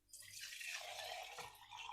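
Chili oil pours steadily into a dry glass jar, a close, continuous liquid rush with a soft gurgle partway through.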